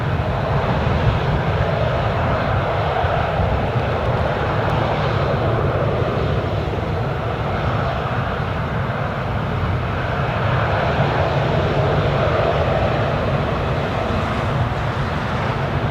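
A passenger airplane at Newcastle International Airport produces a steady, loud jet engine roar that holds evenly for sixteen seconds with no other sounds.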